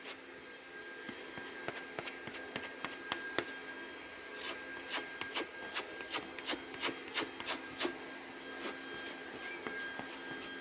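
A knife blade is stropped after sharpening, giving a series of light, brisk swipes in a loose rhythm, close but fairly quiet over a low steady hum.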